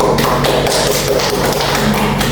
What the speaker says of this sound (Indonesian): Beri aplaus buat dia Pasha.